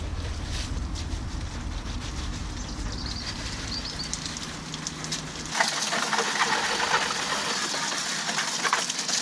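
A Traxxas UDR Unlimited Desert Racer RC truck with custom trailing arms on its first run, a steady whine with wind rush that swells into a louder, brighter roar partway through, with no voices.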